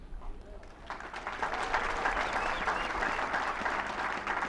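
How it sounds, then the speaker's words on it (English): Graduation ceremony audience at Mount Kenya University applauding the university's founders, a broad sustained clapping that swells in after a quieter start and stays steady, with some voices mixed in. "I don't mind if you give them a round of applause."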